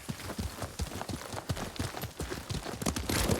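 Horse hooves galloping in the Ghost of Tsushima video game, a quick irregular drumming of hoofbeats at moderate distance, continuous over the whole stretch.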